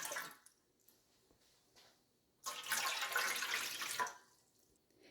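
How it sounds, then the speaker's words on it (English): Water is poured from a container into the bottom pan of a Ninja Combi multicooker, a brief rushing splash of about two seconds amid quiet kitchen sounds. "in the bottom pan, we're going to go in with 4 cups of water"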